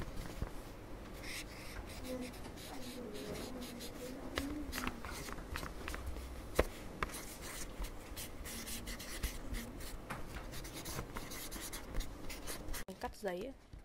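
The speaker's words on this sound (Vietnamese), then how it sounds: "Tiếng viết trên giấy." A pen or pencil writes on paper in continuous soft scratching strokes, close and quiet, with faint background murmur of people talking.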